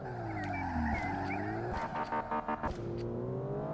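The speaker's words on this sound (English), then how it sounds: "you see how you heard it rev up and then immediately it just sounded like it bogged down" A car engine in the Star Drift Evolution racing game revs up hard, then bogs down and stutters through a string of choppy pulses before settling back into a steady drone, loud and close with no talking.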